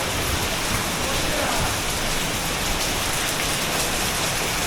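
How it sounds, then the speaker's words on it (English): Heavy rain pours down steadily on a city during a flood, a dense, loud wash of drops hitting surfaces without pause. "Oh, it's really bucketing down there."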